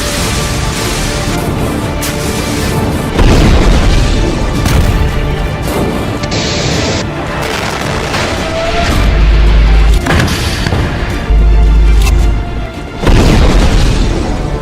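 Explosions and heavy blasts from combat footage of Hezbollah attacks on Israeli tanks and weapons: loud booms and crashes repeat over a continuous rumbling din, with several heavy low impacts spread through the stretch.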